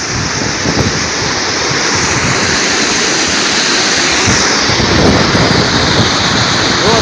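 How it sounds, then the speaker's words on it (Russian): A strong-flowing stream near an old Teutonic castle town in Poland: a loud, steady rush of water with some wind buffeting the microphone, continuous throughout, with no talking. "А ручей-то окреп."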